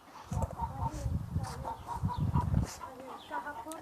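A hen clucks nearby in a short run of soft, repeated calls while people talk in the background.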